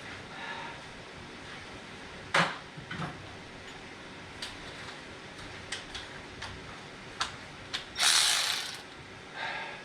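A speed wrench ratchets on the brake caliper of a Jaguar MKII, with quick bursts of clicking pawl ticks, a few sharp clacks and a louder rattling burst near the end, close and clear.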